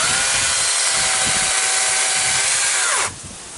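A SKIL PWR CORE 40 brushless 40V 14-inch battery chainsaw whines steadily at close range while cutting a tree stump, then its pitch drops and it winds down to near silence at the end.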